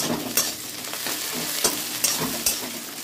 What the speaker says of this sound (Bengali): পেঁয়াজটা ভাজা ভাজা হচ্ছে। আমি এবার রসুনটাও দিয়ে দিলাম